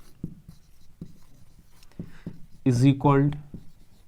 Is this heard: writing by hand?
yes